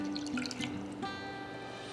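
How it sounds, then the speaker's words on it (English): Lukewarm water poured into a bowl for proofing yeast while baking bread in an RV kitchen, a close, steady trickle and drip lasting about two seconds with no talking. "you're gonna go ahead and put your lukewarm water"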